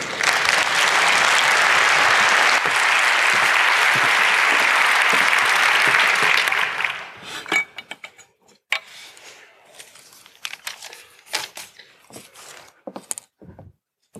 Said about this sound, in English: please give a warm round of applause to Charleyne Biondi